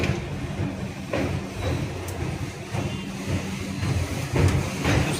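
A train crossing past during a Dhauli Express 12822 journey from Puri to Howrah, heard near an open carriage door as a continuous close rumble with a few brief surges and no talking.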